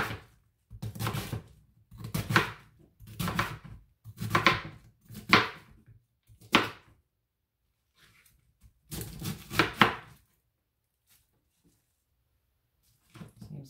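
Knife chopping the last of a cabbage on a board for fried cabbage with noodles, a run of close, thudding crunchy cuts in quick bursts, a pause, then another short burst before falling quiet.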